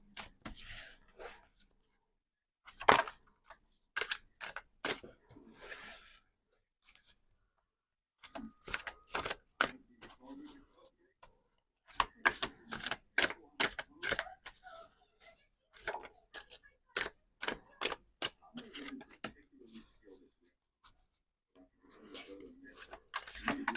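Tarot cards being shuffled and drawn, with bursts of riffling flicks and taps in quick runs separated by quiet pauses, close and fairly soft.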